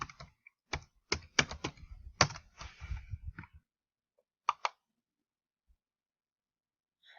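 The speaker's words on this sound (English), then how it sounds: "Go ahead and type that in." A computer keyboard being typed on in a quiet room, a quick burst of close, crisp key clicks for a few seconds, then silence broken by a couple of isolated taps.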